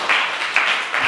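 Church youth group congregation claps and applauds in a short burst, the dense patter swelling in three quick waves, close and fairly loud.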